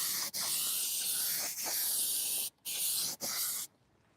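A spray gun lays down a paint finish in long continuous hissing bursts, broken by brief pauses between passes, loud and close before cutting off at the end.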